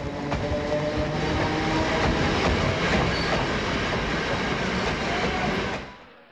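A local train bound for Tambaram pulls away from platform 5 of a station, giving a continuous heavy rumble with faint rattling clatter that holds steady and then fades away quickly at the end.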